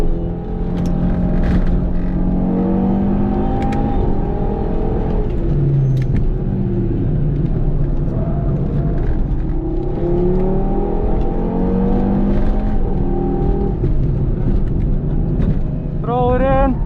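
An Audi TT RS engine revs hard on a fast track lap, its pitch climbing and dropping through repeated gear changes, loud and close with steady road and wind rumble underneath.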